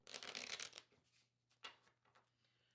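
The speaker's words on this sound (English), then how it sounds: "I'm gonna go ahead and cut the deck and shuffle one more time" A deck of playing cards is shuffled close by, a dense riffle burst lasting under a second followed by a few softer taps and flicks as the cards settle.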